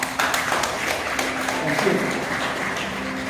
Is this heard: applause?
yes